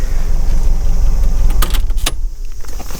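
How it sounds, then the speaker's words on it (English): A key is used to open the trunk of a 2001 Subaru Impreza WRX GDA, with jangling keys and a couple of sharp close clicks from the lock over a low background rumble. "And open the trunk with the key."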